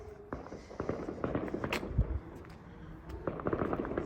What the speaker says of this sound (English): there's lots of fireworks in the background